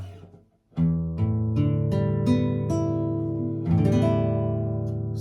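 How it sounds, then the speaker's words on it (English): Tuned classical guitar strummed and picked close up, a series of ringing chords and notes sustaining over about five seconds. "So that's the sound of a tuned guitar."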